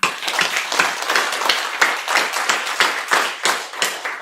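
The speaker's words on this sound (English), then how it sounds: "I want you to wake your hands up, clap 10 times." An audience at a live storytelling event claps in a quick, steady rhythm of sharp, close hand claps, a short burst of many beats with no talking over it.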